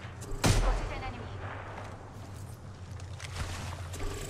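Apex Legends gunfire: one loud, close shot with a booming tail, then a faint, busy battle ambience with softer distant shots and game effects.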